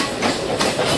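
Pinakini Express rolling along the rails, a steady broadband rumble with faint clatter and swelling hiss, close and continuous for about a second with no voices.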